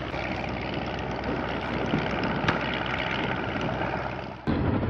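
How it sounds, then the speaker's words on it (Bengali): Large ships passing on the Padma river, a steady broad engine and water rumble at moderate distance, continuous throughout with a faint knock near the end, no talk. "পাশেই কিন্তু বড় বড় জাহাজ যাচ্ছে"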